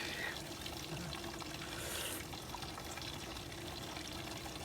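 Water pours steadily into a basin for soaking and rinsing a t-shirt during hand laundry, a continuous close splashing flow at moderate level with no break.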